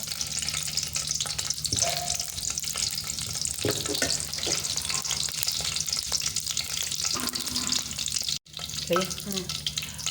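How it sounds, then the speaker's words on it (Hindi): Garam masala sizzles in hot oil for a goat trotters paya curry, a dense, even frying hiss running throughout with light clinks and stirring touches, a brief dropout near the end, no one speaking. "ऑयल गर्म हो चुका है और अब हम इसमें डाल दिया है गरम मसाला।"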